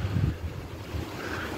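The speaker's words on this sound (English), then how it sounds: "a strong gust of wind" A strong gust of wind before a storm under a tornado warning buffets the microphone in a low, rumbling burst that eases into a steady windy hiss.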